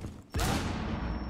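A sudden loud burst of gunfire erupts in Rainbow Six Siege, starting after a brief quiet moment and continuing as a dense, close volley of shots.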